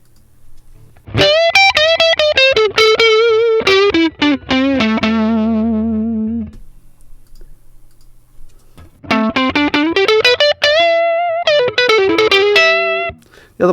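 Electric guitar through a 55 Tweed Deluxe amp emulation plugin, slightly driven and distorted, playing sustained bending melodic phrases with wobbling vibrato, loud and close, with a pause in the middle and no talking.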